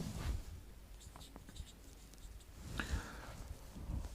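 Pen writing out a maths solution for a verandah area problem, scratchy strokes in short bursts with faint background sounds and some low rumble throughout.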